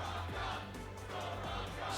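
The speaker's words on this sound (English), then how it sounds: "The crowd reminding us that Soraka's on the board" Arena crowd at a League of Legends esports match in the LCS North America Spring 2016 season, a steady roar of cheering and yelling throughout, fairly loud and continuous with no clear talk over it.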